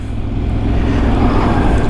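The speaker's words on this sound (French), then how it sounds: "attention au tracteur les mecs" A tractor on the road rumbles past a Yamaha R1 motorcycle, a loud, low engine drone that builds slightly and holds steady through the short moment.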